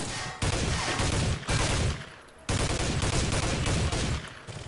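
Sustained bursts of automatic gunfire from the video game Soldier of Fortune II, loud and close, in three long volleys separated by brief pauses.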